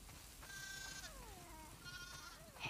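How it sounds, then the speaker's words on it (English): Sheep in The Last of Us Part II give two clear, wavering bleats a moment apart, close and distinct over a quiet farmyard ambience with no talk. "We definitely have way too many sheep."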